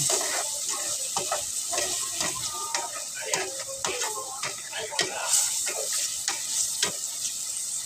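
Potato strips for french fries frying in hot oil, a steady crackling sizzle with bursts of stirring and clinks of a utensil against the pan, heard close throughout.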